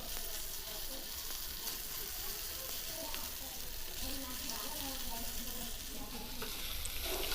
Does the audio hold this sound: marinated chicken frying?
yes